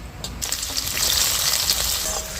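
Onion dropped into hot oil with cloves and cinnamon sticks, frying with a strong, steady hiss that swells after a couple of soft clatters at the start, close and with no talking.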